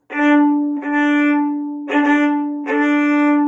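A bowed string instrument repeats one note in a down-down-up bowing pattern of short and long strokes, four separate pulls with brief breaks, close and clear.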